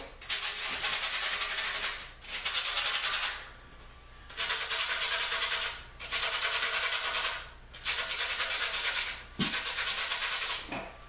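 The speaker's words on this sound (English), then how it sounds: "you just want to scrape each individual hole. That way it's not likely to peel." Skateboard grip tape being scraped over the bolt holes, heard as loud close rasping strokes repeated in long even bursts with short pauses between them, without any talking.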